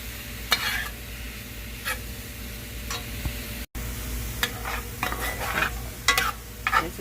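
Mushrooms and onions sweating in oil in a pan for homemade gravy: a gentle, steady sizzle broken by intermittent spoon stirs and scrapes against the pan, with a brief dropout midway.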